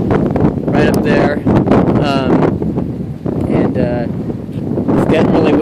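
Gusty wind from an approaching storm front with tornadic activity in Columbia, Missouri, buffets the microphone, with bursts of voice or animal calls cutting through the rushing noise.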